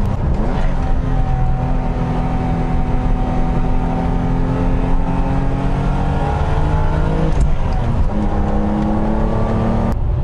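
A loud BMW E24 M635CSi engine runs steadily, its tone rising and falling as it revs, with no talking over it.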